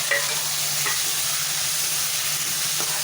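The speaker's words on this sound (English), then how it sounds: "I'll put in these tomatoes that I cut and fry that also very well" Chopped tomatoes fry with browned onions in a pan for a chicken tikka masala base, giving a steady, even sizzle that runs unbroken throughout, with faint stirring scrapes and no talk.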